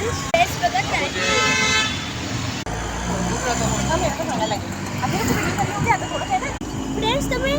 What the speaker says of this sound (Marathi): फ्रेंड्स पुन्हा ट्रॅफिक झाली आहे.